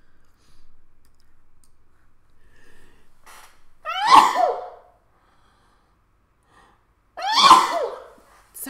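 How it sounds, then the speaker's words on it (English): Two loud sneezes, about three seconds apart, each a sharp explosive burst standing out against quiet background with faint tapping. "I'm gonna sneeze again."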